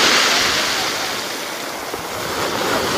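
Stormy sea surf at Lazarevskoye on the Black Sea coast, a steady loud broadband roar of breaking waves with wind buffeting the microphone throughout, no voices.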